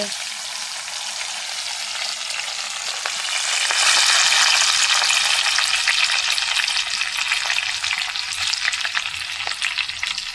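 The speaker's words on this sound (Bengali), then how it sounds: "পাঁচ রকম যে পাতাটা আমি কুচে নিয়েছি সেই পাতাটা এখন তেলের মধ্যে দিয়ে দিলাম আস্তে" Five kinds of chopped leaves, including tulsi, hit hot oil for a homemade Ayurvedic oil, producing a loud, dense, continuous close sizzle that swells after a few seconds and then crackles steadily with faint stirring.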